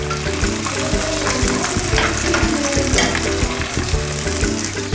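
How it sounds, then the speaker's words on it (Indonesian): Batter for Indonesian fried chicken sizzles loudly and continuously in hot oil while being stirred in the pan, with steady crackling and spattering close up throughout. "Sambil diaduk-aduk ya teman-teman. Ini supaya adonannya tidak menggumpal."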